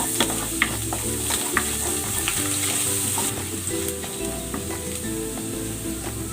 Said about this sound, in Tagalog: Magigisa na ako ng bawang.